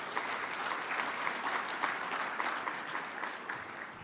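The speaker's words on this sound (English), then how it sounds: "So give yourselves a round of applause." Steady audience applause fills a conference hall at a digital inclusion event, dense and sustained with no voices over it.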